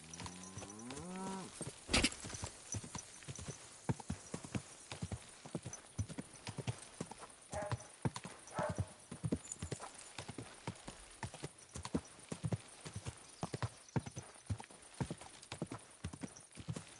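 Rhythmic clip-clop of horse hooves trotting at an even pace in the video game Kingdom Come: Deliverance II, fairly close, preceded by a brief sharp sound and soft background noise.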